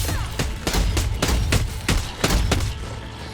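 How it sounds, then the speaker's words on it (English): Shockwave perk explosions in Dead Island 2 as knocked-down zombies burst, a rapid string of sharp loud blasts at roughly regular intervals over a continuous rumbling bed. "the Shockwave perk to cause forceful explosions when a zombie is knocked down"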